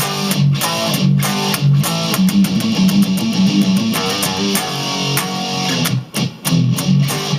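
Loud distorted electric guitar plays a fast riff, with dense repeated notes and quick hammer-ons in a driving, almost continuous rhythm, close and with no talking.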